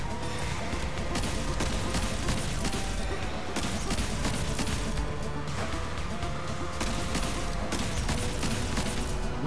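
Gunfire in Destiny 2 during a solo Whisper of the Worm mission on a Titan, dense rapid bursts of shots and impacts over a loud continuous mix of game effects, with a voice talking underneath.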